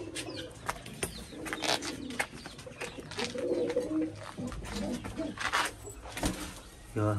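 Pigeons coo repeatedly nearby, soft throaty calls overlapping amid background noise, with a person talking at times.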